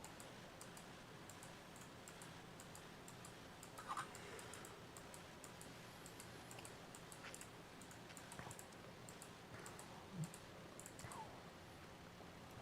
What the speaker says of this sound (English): I'm pretty sure you can hear the tapping on the keyboard.